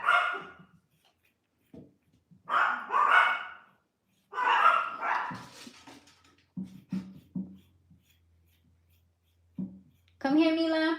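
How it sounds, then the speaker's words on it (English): Yorkshire terriers bark at the door as a neighbour arrives, sharp clipped yaps in short bursts partway through, with a person talking before them. "They're by the door, so I think the neighbor just got here and they're barking."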